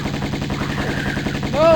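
Rapid gunfire from the Tomb Raider video game, a steady stream of close shots rattling through the whole stretch while other game sounds swell near the end.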